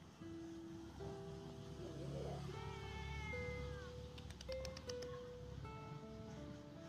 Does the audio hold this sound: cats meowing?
yes